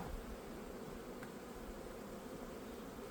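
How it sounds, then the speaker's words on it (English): Honey bees flying out of an opened hive box, a dense, continuous buzzing swarm close by, steady and alone with no talk. "Now the bees will start flying because they are missing the entrance."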